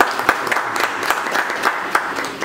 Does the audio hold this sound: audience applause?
yes